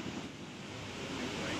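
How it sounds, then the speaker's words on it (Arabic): River water at a Kapong tubing site rushes in a steady, dense wash that fills the whole moment, with some wind buffeting the microphone. "فجابونا هنا بقى عند النهر ده"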